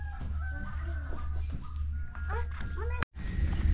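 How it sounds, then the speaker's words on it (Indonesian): Chickens cluck and squawk nearby in short bursts, mixed with children's voices and background chatter outdoors at a riverside waterfront village in Mukah, Sarawak. "Ayam."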